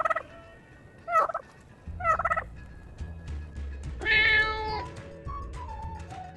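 A cat meows on a farm, one clear drawn-out meow in the middle, mixed in among several short gobbling turkey calls and other fowl noises, all close and fairly loud.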